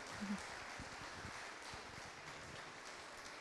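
Steady, soft applause from a conference audience at a pedagogical innovation day, a continuous patter of many hands heard from some distance without voices.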